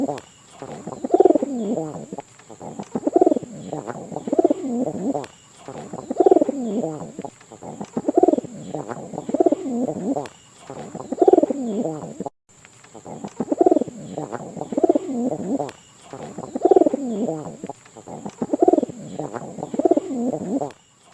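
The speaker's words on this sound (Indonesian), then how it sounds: "merpati hias Europlower yang saya pegang saat ini sebenarnya lumayan potensial" Europlower fancy pigeon cooing close by in a quiet indoor space, repeated rhythmic bursts of soft, rolling coos roughly every one to two seconds, with a faint steady high-pitched background tone.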